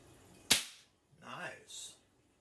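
A Crosman 1377 air pistol fires one sharp, close crack, then a softer thud and a brief rattle follow as the pellet strikes a box target nearby.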